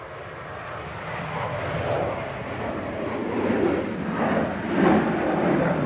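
A Ryanair jet airliner departs Manchester Airport in storm crosswinds, a steady distant engine roar that swells gradually, mixed with gusting wind buffeting the microphone.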